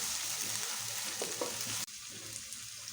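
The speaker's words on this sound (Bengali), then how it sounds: "ভালো করে মশলাটা কষিয়ে নেব" Spice paste for chicken korma sizzles in a pan while being stirred, making a close, steady frying hiss with faint scraping. The sound drops abruptly to a quieter sizzle partway through.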